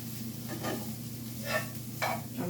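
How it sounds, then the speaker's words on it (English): Cabbage, carrot, green pepper and onion from coleslaw mix sauté with seasonings in a pan, a low steady sizzle broken by a few brief utensil scrapes and stirs, close and moderately loud. "sauteing it a little bit with some seasonings"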